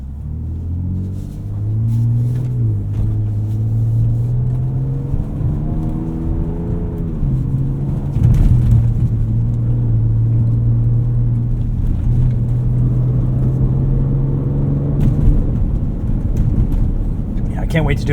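Ford Ranger Raptor on 35-inch tires rolling over bumps, with a steady low engine and road rumble from inside the cab, occasional thumps and a faint rising engine note, while someone talks over it.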